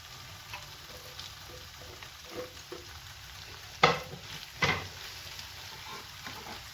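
Alexandrian sausage with bell peppers stir-fries in a pan, giving a steady low sizzle broken by a few sharp clatters and scrapes of stirring.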